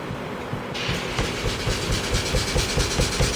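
Restored Stuart No1 stationary engine, a big single-cylinder thumper driving an alternator, starting up after a short hiss and settling into a steady rhythmic chuffing beat, loud and close.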